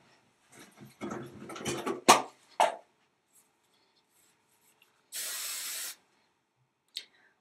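Hairspray sprayed onto hair, a single steady aerosol hiss lasting under a second, heard close after a few soft handling rustles and a brief tap.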